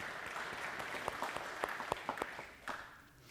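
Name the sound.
applause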